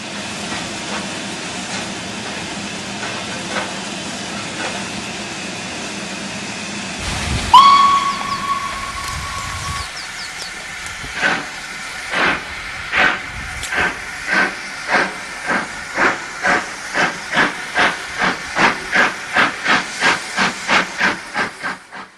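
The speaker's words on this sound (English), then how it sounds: "And with that, the K3 departs for the north." An LNER K3 steam locomotive departs, first hissing steam, then a sharp whistle blast, then chuffing exhaust beats that quicken and grow louder as it pulls away.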